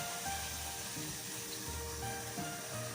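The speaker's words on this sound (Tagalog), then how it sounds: "Lagyan natin ng toyo." Soy sauce poured into a pan of chicken adobo, a soft steady sizzle and liquid hiss, faint and continuous with no talking.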